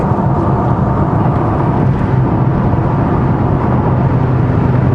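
A 2014 Audi RS6 with quattro revved hard while sitting still, giving a loud, steady, dense engine roar that holds without pause throughout.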